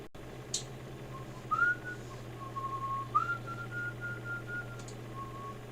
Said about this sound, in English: I'm just doing a little whistling there